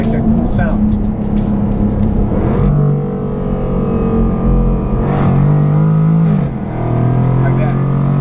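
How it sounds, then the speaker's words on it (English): A car engine revs hard to the limiter and drops pitch as it shifts up, repeating through several gears, loud and close with a person talking over it. "when you hit the limiter, it'll shift up for you, and then it'll make that cool sound"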